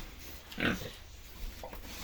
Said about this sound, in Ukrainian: Свинюшка.